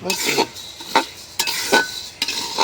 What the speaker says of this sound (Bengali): শুধু এভাবে নাড়তে হইব, তাহলে একরকম ভাজা হবে